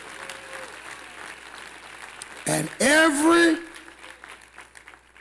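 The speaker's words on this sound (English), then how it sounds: "Clap your hands for Jesus and give God the praise." Church congregation clapping in a burst of applause after a sermon, loud and brief, with a voice speaking over and around it.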